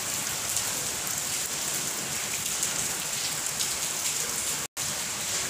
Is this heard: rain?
yes